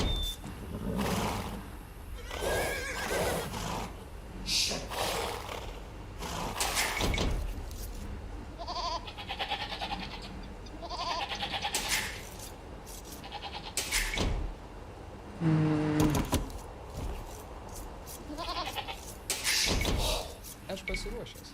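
Goat bleats in the game Age of Empires, several short bleats scattered between unit voice lines and commentary, with speech throughout and bursts of game effects.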